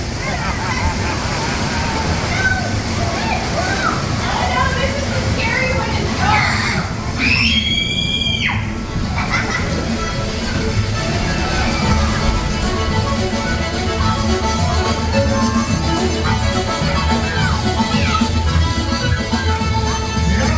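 Water rushing and splashing on the Tiana's Bayou Adventure water ride at Disneyland, a loud continuous wash of spray and churning water heard up close from a boat, with a crowd's voices and shrieks mixed in.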